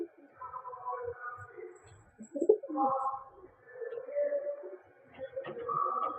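Madrasi and Giribaj pigeons coo in a loft, several close, rolling calls following one another in bursts, fairly faint and with no talk.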